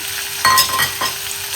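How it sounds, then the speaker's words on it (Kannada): Onions and spices fry in a pan as two large tomatoes go in, giving a close, soft sizzle broken by a couple of stirring clatters, with no voices. "ಇದಿಷ್ಟು ಫ್ರೈ ಆಗ್ತಿದ್ದಾಗೆ 2 ದೊಡ್ಡ ಟೊಮೆಟೊ ಹಣ್ಣನ್ನು ಹಾಕ್ತಾ ಇದ್ದೀನಿ"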